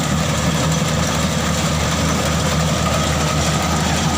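A Kubota DC 95 GM combine harvester cutting upland Hom Phuphan rice, its engine running at a loud, steady drone with a deep low rumble and broadband mechanical noise that holds unbroken throughout, without any talking.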